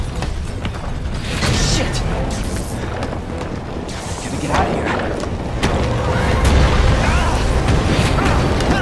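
Launcher blasts and mechanical clanks from the Resident Evil 2 video game, a dense continuous barrage of booms and rattles heard throughout, with a voice occasionally talking over the noise.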